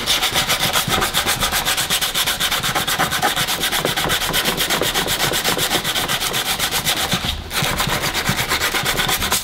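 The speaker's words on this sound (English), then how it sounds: "Now we're gonna go ahead and 80 grit it one more time" 80 grit sandpaper is rubbed over a cracked plastic car part in fast, steady back-and-forth strokes, loud and close, with only a brief pause near the end.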